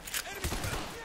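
Gunfire in a Call of Duty: Black Ops Gun Game match, a few close, sharp shots in quick succession over a busy game mix, with some talk in the background.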